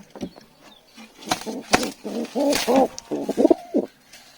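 Nesting pigeons beside their unhatched eggs give a run of soft, low cooing calls, close and moderately loud, with a few brief rustles in between.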